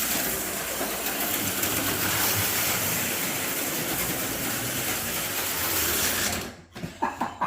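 Slot cars race around a home track with sharp curves, giving a steady close buzzing whir that holds for several seconds before dropping out into a few brief clicks and knocks.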